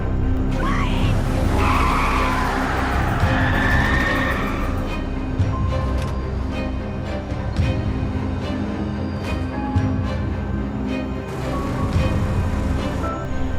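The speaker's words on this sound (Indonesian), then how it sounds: "mereka berdua langsung tancap gas dan menjauh dari makhluk tersebut" A car from a monster film speeds away with tires skidding and screeching, the loud squeal fading into a steady engine rush while voices sound over it.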